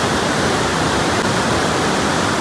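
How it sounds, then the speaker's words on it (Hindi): Loud, close roar of surging floodwater rushing past a bridge and rocks in a village, a dense, unbroken wash of noise that fills the whole clip with no break. "आवाज बहुत तेज है इस पानी की, कान के पर्दे फट जाएंगे यहाँ।"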